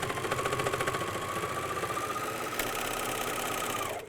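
A MyLock 454D serger stitching a pajama-top neckband runs at a steady fast mechanical whir, loud and continuous for several seconds before stopping abruptly at the end.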